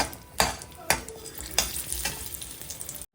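Grated dry coconut roasting in oil in a pan, stirred toward golden brown: a steady low sizzle with several sharp scraping strokes of the spoon, close and fairly loud, ending in a brief silence.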